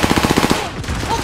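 Automatic gunfire in the video game Warzone: a rapid burst of about ten close shots in quick rhythm, then it stops and a quieter game sound follows.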